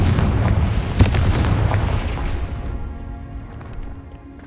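A Confringo fire spell from Hogwarts Legacy bursts into a loud, rumbling explosion. The blast fades into a trailing roar over several seconds, with no talking.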